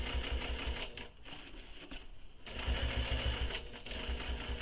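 A sewing machine slowly sews a seam on a crossbody bag, close mechanical whirring in bursts that briefly dip and pause before the needle picks up again.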